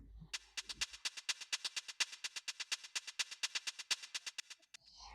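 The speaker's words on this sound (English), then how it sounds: "So the shaker sounds like this" A shaker programmed in XLN Audio XO plays a steady, even stream of crisp, hissy strokes at a fast, unchanging pace, loud and close, with no other sound.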